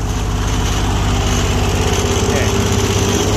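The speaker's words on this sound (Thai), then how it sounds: "เร่งเครื่องอีกหน่อยเร่งเครื่องอีกหน่อย" Old Japanese three-cylinder diesel welding generator running steadily with a throbbing, even engine drone, loud and close, holding a constant revved pitch throughout the short stretch.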